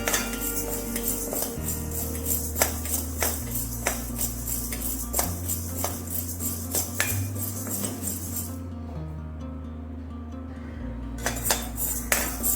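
Urad dal lentils being dry-roasted in a pan for curry leaf podi, with repeated metallic scrapes and clinks of a spoon against the pan in irregular bursts, close and fairly quiet.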